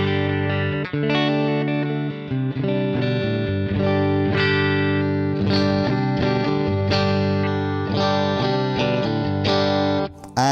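Clean electric guitar played through a Vox MV50 amp with speaker-emulated output, a continuous run of ringing chords and single notes with a bright, sustained tone, close and fairly loud with no talk.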